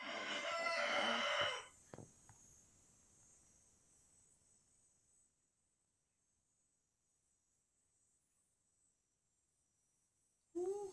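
A rooster crows loudly and close by in a single strained call at the start, then fades into quiet background hiss before another call begins right at the end.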